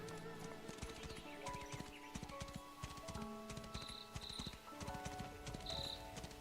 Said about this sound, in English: I just wanted to summon my horse.